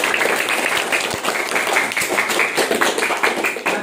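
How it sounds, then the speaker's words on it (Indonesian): Applause from an audience at a motivational training session at an Indonesian school foundation, a dense, steady clapping that carries on for several seconds without speech. "Oke, tepuk tangan buat Deririn."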